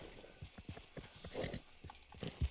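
Horse hooves clip-clop in a steady rhythm in Red Dead Redemption 2, near and moderately loud, with a few heavier thuds at the end.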